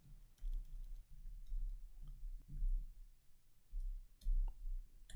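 Light, uneven clicks of a computer keyboard as someone types code, scattered across the clip over a steady low background hum.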